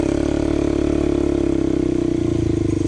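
A Suzuki LT-Z400 ATV engine runs hard while riding sand dunes in Southern Utah, a loud, close, buzzing drone that holds steady then dips slightly in pitch, with no talk.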